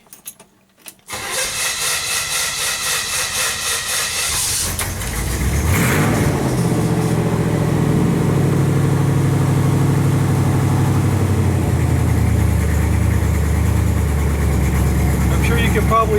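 A 1967 Chevrolet Impala V8 with no headers or mufflers fitted cranks and fires after a short rattle, then settles into a loud, raw, steady idle that runs close and continuous to the end.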